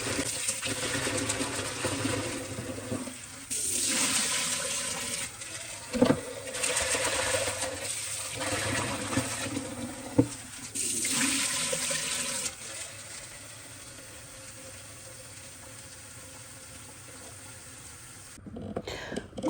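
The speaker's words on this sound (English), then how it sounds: "I wash the samp and the beans about 2 to 3 times under running water" Samp and beans are rinsed under a running kitchen tap, with water gushing in several bursts and pauses, splashing and rustling in a bowl, and a few clinks between.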